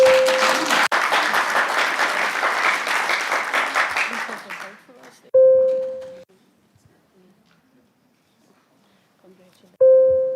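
Applause from the gathering at a council inauguration, loud hand clapping that fades away over several seconds, then quiet broken by two short electronic tones.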